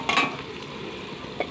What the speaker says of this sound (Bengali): আলুটা একটু ভাজা হয়ে গেছে, লাল লাল করে ভাজা হয়ে গেছে।